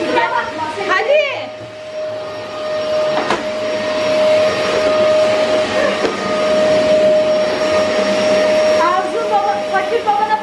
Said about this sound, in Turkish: Kameramıza doğru gelsin süpürge.